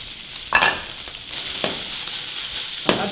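Fish laid into a hot pan of sautéed onions, sizzling steadily and loudly up close, with a few sharper bursts and scrapes as pieces hit the oil; no talking.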